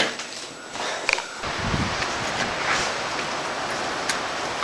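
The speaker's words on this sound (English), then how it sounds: "Oh, it's raining." Rain falling outdoors, a steady soft hiss of droplets with a few brief louder patters and splashes near the start, continuing evenly without any voices.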